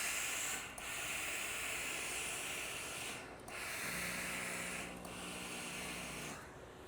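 A garment steamer on a shirt-care machine gives off a continuous loud hiss of steam, broken by a few brief dips, with a faint low hum underneath and no talk.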